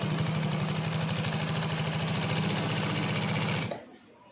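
A GC-0303DCX heavy-duty top-and-bottom-feed industrial sewing machine runs at speed with a fast, even needle clatter and motor hum, close and steady, then stops abruptly near the end.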